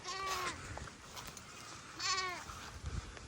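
Goats on a farm in Naujan, Oriental Mindoro, Philippines bleat loudly in two drawn-out, wavering calls close by, with a farmyard murmur in the background and no talking.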